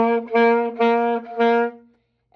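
A saxophone plays four smooth, connected notes articulated with backward tonguing, each running into the next with only slight dips between them before the tone fades out.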